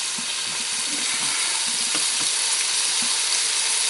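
Potatoes, celery, sweet potato and carrots sizzle steadily in a Kogan pressure cooker, a continuous close frying hiss with light crackles throughout.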